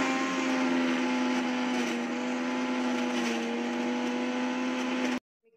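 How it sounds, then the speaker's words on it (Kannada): A mixie grinder whirs steadily through a gobi Manchurian mixture with a constant high motor whine for about five seconds, then cuts off abruptly. "ನಾನು ಮಿಕ್ಸಿಯಲ್ಲಿ ಹಾಕಿಬಿಟ್ಟು ಚಿಕ್ಕದಾಗಿ ಮಾಡ್ತೀನಿ"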